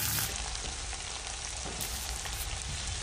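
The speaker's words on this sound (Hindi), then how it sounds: "प्याज को हल्का सुनहरा गुलाबी होने तक हम इसे मध्यम आंच पर भूनते रहेंगे।" Chopped onion fries over medium heat in a pan for potato paratha, a steady, close, loud sizzle that holds evenly throughout with faint stirring and no voices.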